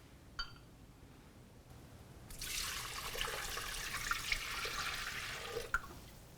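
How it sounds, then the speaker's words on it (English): 48 ounces of broth poured into the mixing bowl of a Multo intelligent cooking system, a steady close gushing liquid stream that begins after a brief clink and runs for about four seconds, moderately loud. "I'm gonna move on to the next step, which is to add the broth to the mixing bowl."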